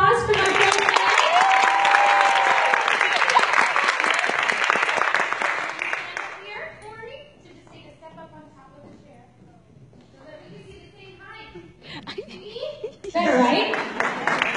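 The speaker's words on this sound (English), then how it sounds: "Can I get a round of applause" An audience claps warmly at a live singing event with a Broadway performer, loud and dense for about six seconds, then fades into quieter room sound with some murmuring before a brief burst of clapping returns at the end.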